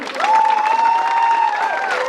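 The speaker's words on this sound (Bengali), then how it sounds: "এবারে হাততালি, সবাই হাততালি" Applause at a football tournament final and closing ceremony during a trophy presentation, a steady wash of clapping from a gathered crowd lasting about two seconds, with a sustained tone, likely a microphone or whistle, running through it.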